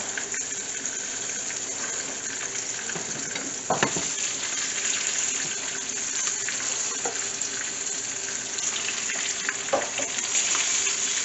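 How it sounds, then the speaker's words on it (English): Snapper fillets shallow-fry in oil with a steady, close sizzle and crackle, with occasional louder pops and spatters, and no speech. "They're nice and golden brown, and they're about to get out of the oil."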